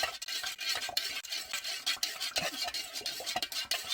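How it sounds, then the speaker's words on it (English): Candle wax being stirred in a pot: a few seconds of quick scraping, rubbing strokes against the pot, close and fairly quiet, with no voices. "Let me do it one good stir."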